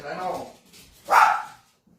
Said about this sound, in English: Do you mind, dog? What are you barking at?